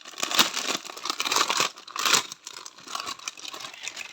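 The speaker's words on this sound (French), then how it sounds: "On va déballer ça." A cross-stitch canvas being unwrapped from its plastic packaging, with close crinkling and tearing of plastic in irregular bursts, moderately quiet and with no talk.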